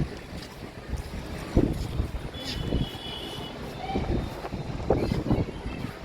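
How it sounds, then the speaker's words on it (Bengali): Strong gusty sea wind on a rooftop facing the beach at Puri buffets the microphone in uneven surges, with voices talking faintly underneath. "একদম সামনেই সমুদ্র দারুণ হাওয়া দিচ্ছে"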